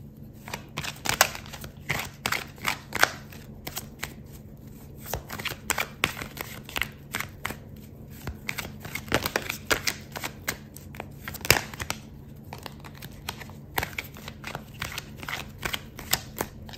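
Tarot cards shuffled at close range during a love reading, a steady run of crisp riffling and flicking sounds with soft papery slaps, continuing without pause and with no talking.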